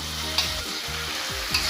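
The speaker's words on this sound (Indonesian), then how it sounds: "Diaduk-aduk." Tofu and green beans frying in a pan while being stirred, a steady loud sizzle with repeated scraping strokes of the spatula, no talking.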